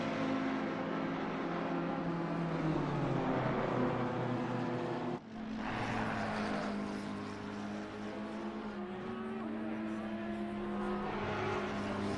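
Audi GT race car lapping the Kyalami circuit in Assetto Corsa Competizione, its engine droning steadily with rising and falling pitch through gear changes, a brief dip at an upshift midway, loud and close throughout.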